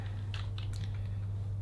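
A few quick, soft keystrokes on a computer keyboard while entering a password, close but faint over a steady low electrical hum.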